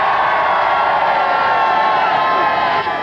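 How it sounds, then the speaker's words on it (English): A large crowd at the National Computer Games Championship 1992 at Earl's Court cheers and claps loudly and continuously, with whoops and shouts rising from the packed hall. "Give a round of applause to Alan!"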